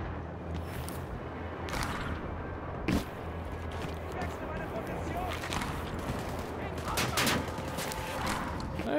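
Enemy gunfire in the shooter Wolfenstein: Youngblood: scattered sharp shots and short automatic bursts ring out over a constant rumbling background, with one louder crack standing out early on.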